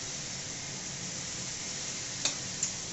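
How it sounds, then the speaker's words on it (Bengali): Ginger and garlic paste sizzling in oil with onion paste for a yogurt katla fish curry, a soft even hiss close by, broken near the end by two brief sharp clicks. "ওর সাথে দেওয়া হচ্ছে আদা ও রসুন বাটা।"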